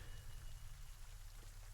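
Rain falls outside under a door awning as an ambient backdrop, a steady, even hiss of drops with no voices, continuous for the short stretch.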